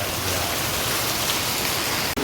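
Steady rain pours down over a village, a dense continuous hiss of falling water that fills the whole stretch evenly and close by, broken only by a brief dip near the end, with no voices.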